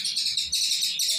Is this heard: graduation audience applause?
no